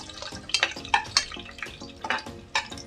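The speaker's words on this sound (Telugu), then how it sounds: "4 రెబ్బలు ఎల్లిపాయలు తీసుకొని వేసుకుంటున్నాను. కొద్దిగా ఫ్రై అయినాక" Four garlic cloves dropped into a pan of frying green chillies for a potato tomato curry, a soft sizzle under a series of sharp stirring clinks and scrapes.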